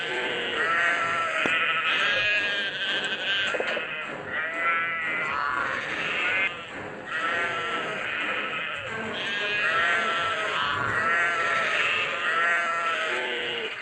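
A goat bleats loudly and repeatedly in wavering, nasal cries that overlap into a near-continuous chorus, heard close with no talking over it.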